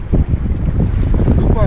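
Strong wind buffets a sailboat during race-week training off Charleston, a loud, steady broadband roar and microphone rumble with water noise mixed in throughout.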